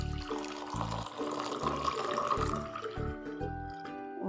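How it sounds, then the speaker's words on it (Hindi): Hot water poured from above into a glass holding turmeric powder and salt, a steady splashing, gurgling stream, quiet and close, with no voices. "और गरम गरम पानी डाल देते हैं इसमें।"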